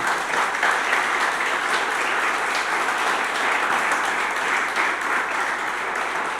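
A church congregation applauds during a service, a steady, full roar of clapping from a large crowd that holds at an even level throughout, with no voices rising above it.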